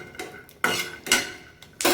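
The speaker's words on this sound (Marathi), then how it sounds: "हिरव्या मिरच्या टाकल्यानंतर थोडंसं तेल टाकायचं आहे आणि चांगलं परतून घ्यायचं आहे।" Peanuts and green chillies sautéed in oil in a pan for a stuffed capsicum recipe, heard as a few sharp scrapes and clinks of a spoon against the pan in quick bursts, close and clear.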